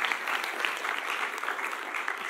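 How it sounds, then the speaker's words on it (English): Applause fills a university chapel service after a choir performance, a steady dense wash of many hands clapping at moderate distance, continuous and without pauses for the whole stretch. "Let's give another round of applause to Turning Point and the choir"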